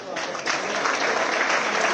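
Loud, steady applause from an audience at an honoring ceremony for a women's cricket World Cup winner, at the Chief Minister's residence, sustained for the full stretch after a soft start, with some voices mixed in.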